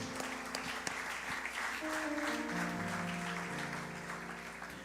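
A church congregation applauds in a steady wash of clapping that fills the room, with sustained organ or keyboard chords rising underneath.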